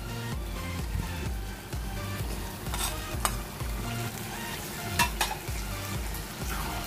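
Sardine sambal with fried potatoes sizzling in a pan while being stirred, a steady close frying hiss with occasional scraping clinks of the spoon and no talk.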